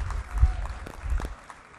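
An audience at a golf interclub championship awards ceremony at a country club gives a short burst of clapping, loose and moderately near, fading out after under two seconds.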